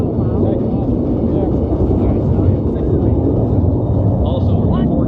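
F-15 Strike Eagle jets of the 422nd test and evaluation squadron roar overhead at an airshow in Las Vegas, a loud, continuous wash of jet noise mixed with wind buffeting, while a voice talks underneath.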